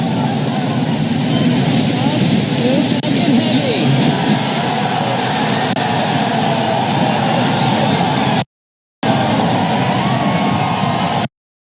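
Broadband roar from a SpaceX Falcon Heavy launch with side booster ignition, a dense, continuous rumble that holds steady and loud for many seconds, briefly cut out, with no voices clearly apart from it.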